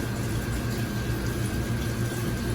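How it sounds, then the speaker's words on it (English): Kitchen tap water runs steadily as hands are rinsed off under it, a constant close rushing splash with no breaks and no talking. "Now we're gonna rinse off."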